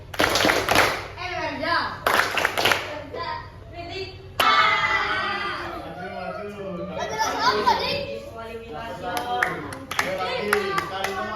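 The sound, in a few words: students doing clapping routine in classroom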